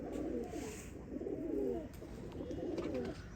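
Sialkoti Kamangar pigeons coo in soft, repeated low rolling calls, close by, with a faint background hiss.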